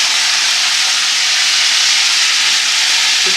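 Chicken pieces dry-fry in very hot oil for a spaghetti dish, giving a loud, continuous broadband sizzle that stays even and close throughout with no voices.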